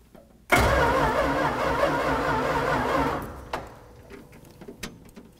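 A Dodge A-100 shop truck engine cranks and catches abruptly, roaring loudly for a few seconds before dropping to a rough, uneven idle with scattered knocks and clatter nearby.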